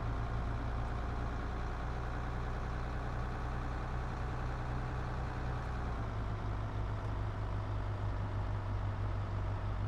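A video game tractor engine idles steadily with a deep, even rumble and low throbbing hum, running alone without any change in pace for the whole stretch.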